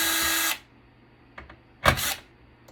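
A power drill spins briefly to back steel screws out of a Cisco switch, a short close whir that stops, followed by faint clicks and a second quick burst of the drill.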